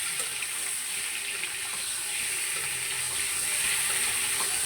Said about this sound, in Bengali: আমি এখানে 10টি ডিম তেলে দিয়ে দিচ্ছি। এবার ভালো করে ডিমগুলো ভেজে নিব।